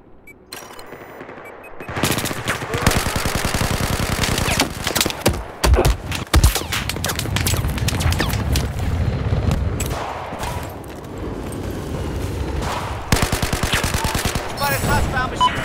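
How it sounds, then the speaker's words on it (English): Hostile machine gun fire in the Battlefield 4 video game on the Zavod 311 map, loud rapid bursts repeating across the clip with other gunfire and battle noise mixed in. "But it's hostile machine gun."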